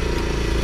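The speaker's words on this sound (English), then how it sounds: "I had a lot of fun riding this." A Kawasaki Versys-X 250 motorcycle with a 250cc engine runs steadily up close, giving a brief, loud, even mechanical drone with no pauses.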